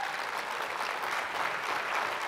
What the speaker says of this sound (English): You clap for yourself.